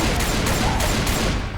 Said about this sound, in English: Everyone shoot the tank.